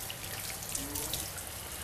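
Automatic water tap running steadily in a boutique toilet store, a continuous close hiss of flowing water with no talk.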